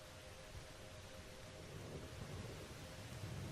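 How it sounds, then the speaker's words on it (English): A thunderstorm ambience plays very faintly: steady rain hiss with a low, rolling thunder rumble underneath. No one speaks. "But you do hear the rumbling of thunder."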